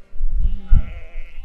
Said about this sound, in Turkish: Bak koyun dönsün yesin.